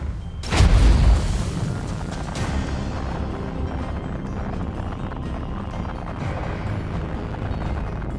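A heavy boom from mines detonating in the space battle game Battlefleet Gothic Armada 2, a single loud low blast that decays into a long rumbling roar and drone lasting several seconds.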